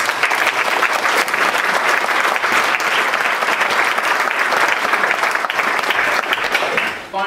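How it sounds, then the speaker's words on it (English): A lecture audience gives a long, steady round of applause for four speakers, loud and even throughout, then it fades quickly at the close. "can we give all four of our lecturers a big round of applause?"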